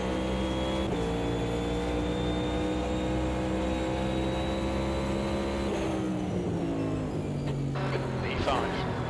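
Race car engines in the video game Automobilista 2 at Mid-Ohio: a steady, droning engine whine with sustained harmonic tones that shift pitch midway, like gear changes and throttle lifts, continuous and fairly close.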